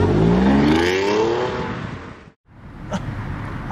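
A video game car revs hard and pulls away loudly, the engine pitch climbing before a brief cutout, then a lower engine hum with small knocks returns.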